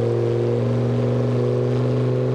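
A Lamborghini in BeamNG.drive gives a steady, loud, droning engine tone with strong harmonics that hold even and close for a couple of seconds.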